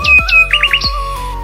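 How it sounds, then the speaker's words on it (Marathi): Loud squawking bird calls ring out close by along a village road, several sharp rising notes in quick succession, some over a low background hum. "हवा थंड, पक्ष्यांचा आवाज"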